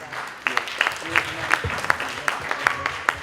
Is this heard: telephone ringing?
no